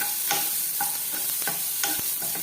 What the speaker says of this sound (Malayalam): ഇതൊന്ന് നന്നായിട്ടൊന്ന് വഴറ്റിയെടുക്കുക.